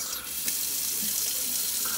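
Hot water tap running at a sink after a water heater has been flushed, a steady loud hiss of rushing water with faint gurgles and spits of purged air.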